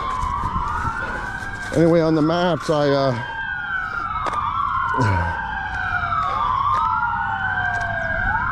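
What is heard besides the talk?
emergency vehicle sirens passing outside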